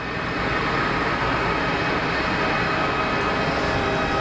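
A Falcon 900 business jet lands at Geneva airport, a steady, loud broadband roar of engine and rushing air that holds even throughout, with no voices.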